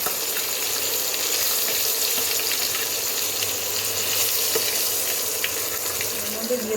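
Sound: fenugreek seeds sizzling in hot oil

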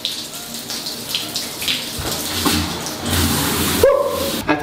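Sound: hotel bathroom shower running after pulling the handle

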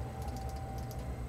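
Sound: Gateron green clicky switch on mechanical keyboard

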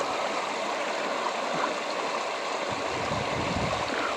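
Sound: river water flowing

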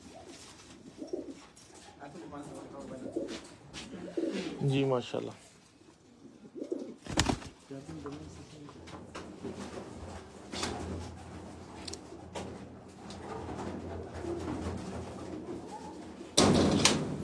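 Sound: pigeons cooing

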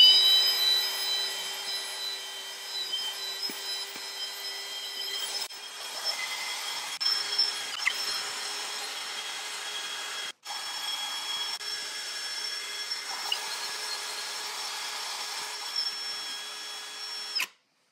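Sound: drill grinding and cleaning a car wheel hub

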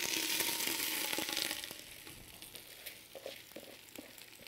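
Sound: rice and tomato paste frying in oil

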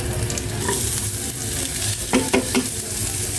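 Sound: sautéing garlic and onion in a pan

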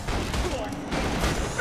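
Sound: gunfire in video game Borderlands 2

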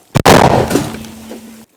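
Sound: D-30 howitzer firing

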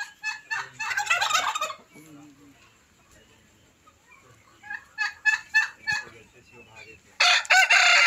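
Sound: turkey gobbling

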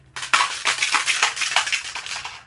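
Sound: blender bottle shaker being handled

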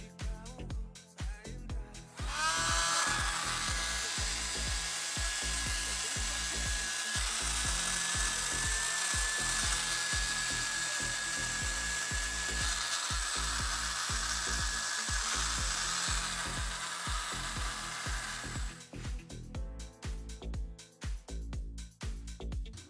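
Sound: USB vacuum cleaner for keyboard running

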